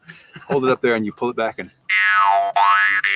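A jaw harp twangs near and loud in two sustained, wavering notes whose pitch swoops down and back up, following a short stretch of someone speaking.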